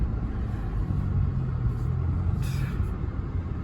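A car driving along a road, heard from inside as a steady low rumble of engine and road noise with a brief hiss partway through.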